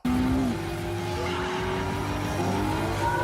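A Dodge Charger EV drives in a car ad, producing a loud, steady synthetic engine-like drone with sustained tones that shift in pitch, continuous throughout with no talking.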